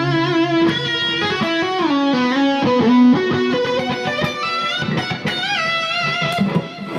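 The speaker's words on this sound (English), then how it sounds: "this is like just a quick demonstration of the distorted amp with a little distortion" Electric guitar played through a distorted amp with a light distortion pedal, ringing sustained notes and short melodic runs at a steady, full level with no talking.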